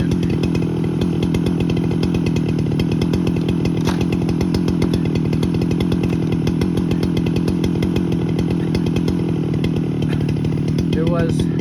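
A chainsaw on an Alaskan mill slicing a 150-year-old blue oak, running steadily at full throttle and loud and close for the whole stretch, with a constant droning engine note and no pauses.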